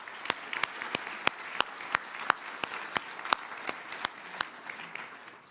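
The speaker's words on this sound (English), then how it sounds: "please, a very big applause to our sponsors" Thin conference audience applause for sponsors, sparse and uneven: a few sharp, distinct claps ring out over a soft bed of scattered clapping, fairly steady across the whole stretch without any talking.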